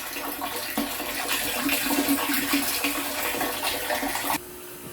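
Water steadily rushing into a household water tank as it fills toward the float, a continuous close hiss and splash that cuts off abruptly near the end, leaving a quieter hum.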